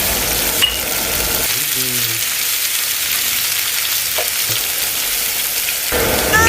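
A tuna steak fries in a hot pan, giving a loud steady sizzle throughout, with a few faint knocks and stirring sounds close by.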